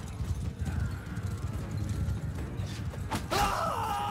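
Horse hooves clopping in the game Bannerlord, quick rhythmic beats under battle ambience with creaking, followed by a loud whinny near the end.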